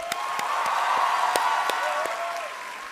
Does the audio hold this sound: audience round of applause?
yes